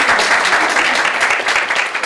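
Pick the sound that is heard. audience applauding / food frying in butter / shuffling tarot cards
audience applauding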